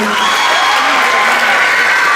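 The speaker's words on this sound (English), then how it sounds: "One more round of applause for Mrs. Nyer, everybody." Middle school band concert crowd in a school auditorium giving a sustained round of applause, a thick steady patter of clapping with faint cheering and a few voices underneath.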